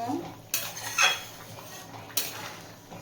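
A metal spoon stirs chickpea ghugni cooked with mutton fat in a pot, giving a few sharp clinks and scrapes against the metal at close range, with quieter scraping between the louder knocks.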